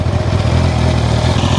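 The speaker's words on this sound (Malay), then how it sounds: "Macam inilah bunyi dia bila dalam keadaan idle." A 2025 Honda CBR650R E-Clutch motorcycle engine idles steadily up close, a low, even chugging rumble with no voices.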